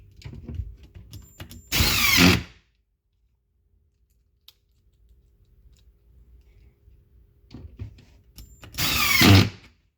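Power drill driving two top screws into a wooden base cabinet during assembly, two separate loud whirring bursts a few seconds apart, close by, with quiet workshop handling noise between them.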